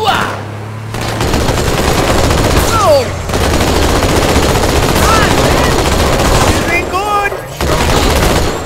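Rapid turret machine-gun fire in a sci-fi shooter game, loud sustained bursts with near-constant gunfire and explosions, under excited voices of players talking over the action.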